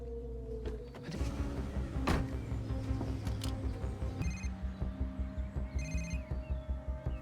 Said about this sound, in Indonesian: si Natalia ini kedapatan telepon dari si Ahmed